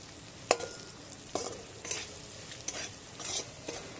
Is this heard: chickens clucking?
no